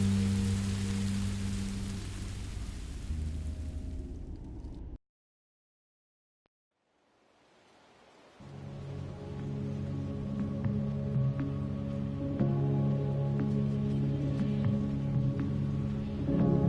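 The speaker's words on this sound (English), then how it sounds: "I didn't know it would rain." Steady rain in the video game Minecraft: Story Mode, a broadband hiss of drops on surfaces that drops out briefly to silence, then resumes with a faint low tonal game background mixed in.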